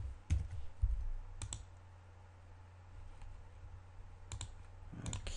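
A computer mouse clicks a few times while building a video web page, sparse faint clicks in small clusters over a low steady hum, with no talk.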